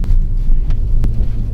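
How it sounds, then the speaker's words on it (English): Strong wind buffets the microphone outdoors with a steady low rumble and gusty roar throughout, a few brief swells rising above the constant blustery noise. "Tell you what, it's damn windy."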